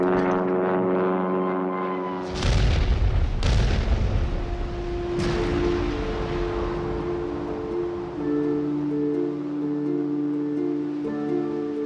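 A newly invented 2,000-pound bomb dropped from a plane explodes on a captured German battleship: a loud booming blast with a second and third crack, over a steady droning propeller-aircraft hum and sustained musical tones.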